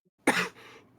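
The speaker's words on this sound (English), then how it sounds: "Cough." A single sharp cough at close range, dropping into a softer breathy tail, then the start of a second cough bursting in right at the end.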